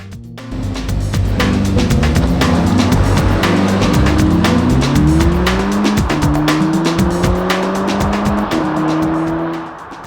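Audi S3 race car engine revving hard at wide open throttle with rising gear pulls, loud and close, tire noise underneath, fading out at the end.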